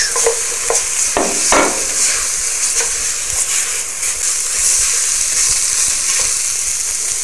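Minced meat frying with tomato paste and carrot in a pan, a loud continuous sizzle with several sharp spatula stirs and clanks near the start, no talking.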